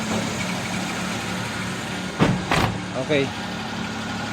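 A Suzuki Multicab engine runs at a steady idle after a carburetor repair, a continuous mid-pitched hum with a couple of brief louder bumps. Someone speaks briefly over it.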